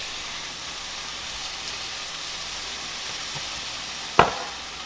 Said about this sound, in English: Now we're going to add our sweet onion.